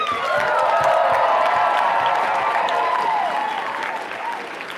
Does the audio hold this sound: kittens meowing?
no